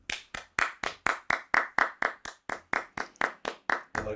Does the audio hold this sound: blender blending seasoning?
no